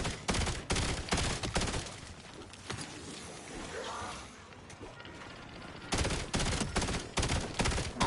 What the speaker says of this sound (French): j'aime pas quand ça tire en rafale là